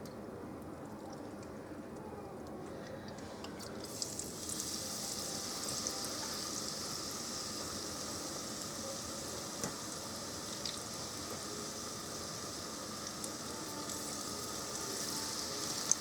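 Beer-batter onion rings fry in hot oil with a steady, soft sizzle and bubbling that grows after a few seconds, plus a few faint clicks and pops, all at low volume with no talking.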